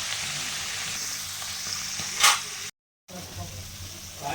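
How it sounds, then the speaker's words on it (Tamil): Manathakkali seeds sauté in hot oil with a close, steady frying hiss, a brief sharp spatter burst midway, then a short silent gap before the sizzle resumes. "கொஞ்சம் எண்ணெயில் வதக்கி பார்த்தீங்கன்னா பெரிய கலர் மாறும்"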